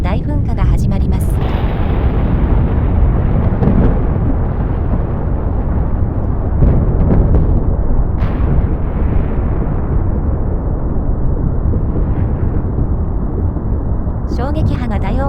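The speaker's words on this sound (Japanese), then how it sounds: "2度目の地震の後、富士山が鳴り響き、大噴火が始まります" A deep, sustained roar of the 1707 Mount Fuji eruption, dense rumbling and blasting throughout with loud booming bursts, continuous and overwhelming.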